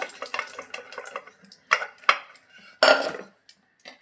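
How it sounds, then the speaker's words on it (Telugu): Boiled cluster beans being drained of their cooking water, with splashing and pouring bursts and the clatter of a metal pot and strainer, close and without talk. "వాటర్ అన్ని స్ట్రెయిన్ చేసేస్తాను"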